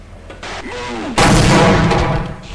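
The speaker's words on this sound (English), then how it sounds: "A well placed grenade." A grenade explodes with a sudden loud, close blast in Half-Life Uplink, preceded by a short whoosh and rattle, then a roaring burst that fades over about a second.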